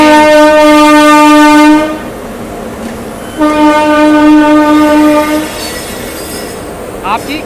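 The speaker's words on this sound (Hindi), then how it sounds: "यहाँ पे अराइवल रही है आपकी नेताजी सुभाष चंद्र बोस से चलकर बिलासपुर को आने वाली आपकी" An Intercity Express passenger train pulls into an Indian station, sounding two long, loud blasts of its horn separated by a brief gap, with faint rail and wheel noise trailing after.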